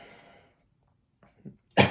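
A single short, sharp cough comes at the very end, close and loud, after a brief pause and a soft breath.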